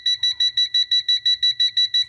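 A TopTes handheld gas leak detector sounding its audible alarm after reaching a high flammable gas concentration, a loud, close, rapid series of about eleven evenly spaced shrill electronic beeps heard alone.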